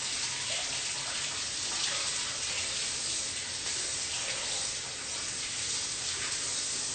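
Tap water running steadily into a sink while green onions are rinsed, a constant soft hiss and splash with no pauses or voices.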